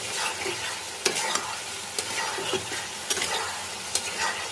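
Boiled eggs being stirred and fried into a thick, clinging onion gravy in a pan, a steady close sizzle broken by sharp scrapes and clatters of the spoon at irregular intervals, with no talking.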